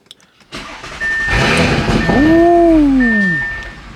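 A 2022 Audi S5 Sportback engine cranks and fires after an oil change, rising into a loud revving flare that sweeps up and settles back to a steady idle, close by and with no talk over it.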